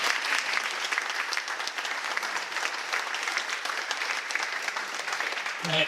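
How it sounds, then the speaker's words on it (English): An audience claps steadily and densely for several seconds, a full room of continuous applause at fairly close range with no voices above it. "let's give a round of applause to our..."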